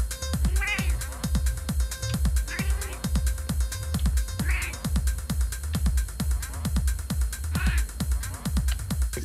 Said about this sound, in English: My cat yells at me for me to get him to kiss him.